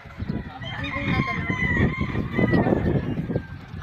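Inside a crowded chicken coop, many hens cluck in a busy, overlapping chorus while a rooster crows through it, all close and fairly loud.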